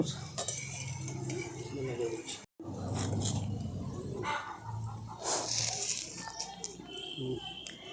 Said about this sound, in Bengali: নিমকিগুলোর আওয়াজটা দেখুন মানে আওয়াজটা শুনে বোঝা যাবে যে কতটা মুচমুচে হয়েছে